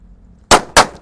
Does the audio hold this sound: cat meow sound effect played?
no